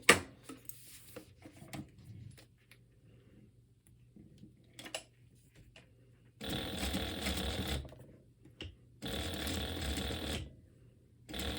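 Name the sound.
sewing machine stitching a row on a sling bag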